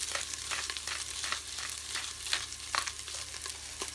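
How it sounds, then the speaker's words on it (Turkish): Ground meat fries and browns in a pan for a Turkish aubergine dish, a soft, steady sizzle with faint scraping stirs throughout, close and without speech. "Etimiz iyice suyunu çekti. Kavrulmaya başladı."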